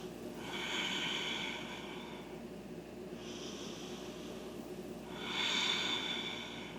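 Slow, deep yoga breaths during a power vinyasa flow, three long airy exhales and inhales close to the microphone, spaced a few seconds apart.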